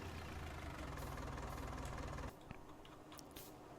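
A tractor engine idles in the Farming Simulator game, a steady rumbling, knocking drone that cuts off abruptly partway through, leaving quieter ambient clicks.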